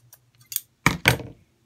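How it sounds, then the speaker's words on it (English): Scissors snip through the corners of light felt fabric in a few quick, close cuts: faint clicks first, then two louder, crisp snips. "I'm going to reduce a little bit of the bulk on the corners by just cutting them at an angle"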